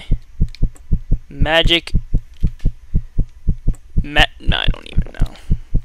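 A steady, looping heartbeat effect in the horror video game Ghost Balloon thumps in a regular double-beat rhythm throughout, loud and close, while someone talks briefly over it.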